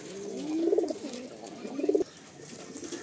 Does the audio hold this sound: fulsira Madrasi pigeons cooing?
yes